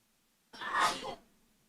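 A single short, sharp sneeze, close and fairly quiet, alone in an otherwise silent room.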